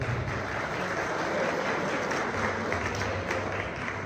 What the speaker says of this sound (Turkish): Kocaman alkış istiyoruz Necdet Bey efendim